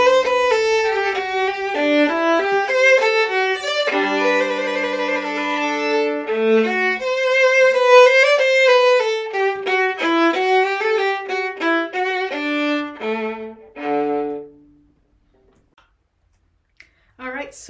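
Viola playing a minuet phrase with a trill and a turn, with clear bowed notes moving in a stately triple meter and faint metronome clicks, ending in a fading note and silence.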